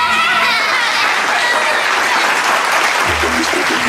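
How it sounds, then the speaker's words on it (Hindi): A crowd at a school annual day keeps up loud, continuous applause, a dense roar of clapping hands with some cheering and chatter mixed in throughout. "Please again clap for them."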